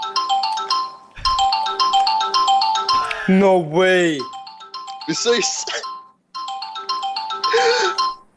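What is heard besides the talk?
phone ringtone in Garry's Mod video game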